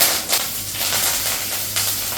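Mustard seeds, urad dal, chillies and curry leaves sizzle in coconut oil in a pan, a steady close crackling hiss with faint pops, no voices.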